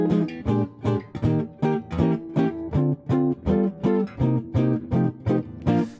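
A jazz guitar strums a rhythm changes progression as short, evenly spaced comped chords, close and steady with brief gaps between hits, no voices.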